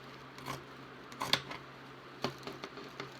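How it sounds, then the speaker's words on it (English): Scissors snip through fabric along a paper pattern piece near the fold line, a few short, sharp cuts spaced irregularly and heard up close in a quiet room. "And I'm just going to cut away. So I'm going to cut this piece out."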